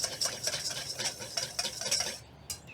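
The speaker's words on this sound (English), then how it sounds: "Give this a nice stir." Mushrooms in soy sauce stirred in a pan, a utensil scraping and clinking rhythmically against the pan bottom with soft wet shuffling, quiet and close, the strokes stopping shortly before the end.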